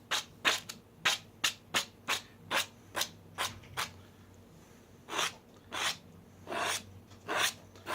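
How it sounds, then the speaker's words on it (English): A frame edge is dragged across a painting in short, rasping strokes. About ten quick scrapes come first, then a pause, then several slower, longer strokes. The sound is close but soft, with no talking. "just the scraping of the frame"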